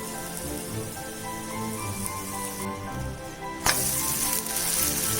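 Oats rotti with vegetables cooking covered on a pan over a high flame, giving a steady crackling sizzle like light rain that brightens and grows louder near the end.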